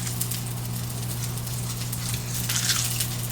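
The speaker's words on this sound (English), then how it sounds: "See how this guy's still sizzling and he's not even on the heat?" Steady, crackling sizzle of food frying in a pan, continuous and close, with a low constant hum underneath.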